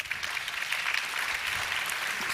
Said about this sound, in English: Complimentary applause.